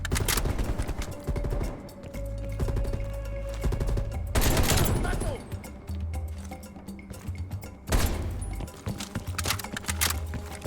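Dense suppressing gunfire erupts in a Call of Duty: Black Ops Cold War battle, overlapping automatic bursts and booming shots that rise and fall in heavy waves, loud and close, with brief shouted voices mixed in.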